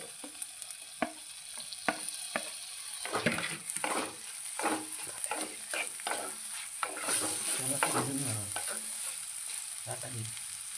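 Chopped tomato and slit green chillies fry in oil for a Kerala curry, with a loud, continuous sizzle and repeated scraping stir strokes in the pan.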